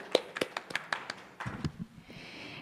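A handful of people give brief, scattered handclaps at the close of a blockchain unconference session; the claps are sparse and uneven, then fade into quiet room tone.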